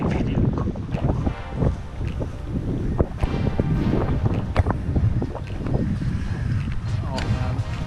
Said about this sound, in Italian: Ho una fresca brezza che asciuga il sudore dopo la salita